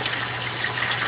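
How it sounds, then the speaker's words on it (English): An aquaponics bell siphon draining water out of a gravel grow bed gives a steady, close rushing gush of flowing water, even and continuous, with no talking. "Now you can see the bell siphon just went off"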